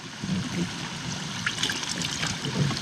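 Water poured out of a container holding tilapia, a close, continuous trickling and splashing that runs the whole time with no talk.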